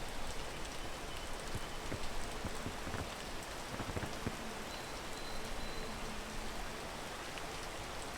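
Rain in the video game PEAK hisses steadily with dense patter and occasional louder drops, a constant even wash with no voices over it.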